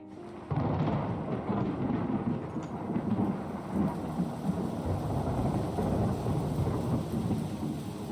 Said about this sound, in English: The deafening claps of thunder are accompanied by horrified screams.